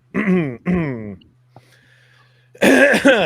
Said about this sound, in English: Sorry, clearing my throat into the mic.